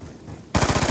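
Rapid automatic pistol fire in the video game Black Ops 2 bursts in at mid-clip, a loud rattling string of shots after a quieter stretch of game ambience.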